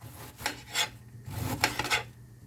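Knife slicing through a wedge of cabbage into small chunks on a cutting board, with a few distinct rasping, crunchy strokes in quick succession, close and moderately loud, no voices.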